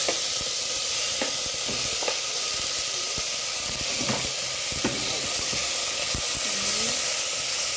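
Beef sizzling and frying in a pan for Japanese ramen, a steady close hiss with scattered crackles and occasional stirring scrapes throughout.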